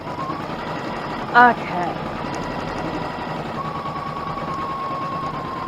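An embroidery sewing machine stitches steadily with a fast, even mechanical whir and rhythmic needle chatter, continuous and close, while one person says a single short word over it.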